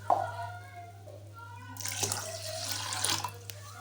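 Water is poured over soaking mung and masoor lentils in a kitchen. A brief voice at the start gives way to a steady, splashing rush of pouring water through the second half, close by.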